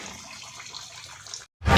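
Water runs steadily into a container, a close hissing pour that briefly cuts out and then resumes with a louder gush.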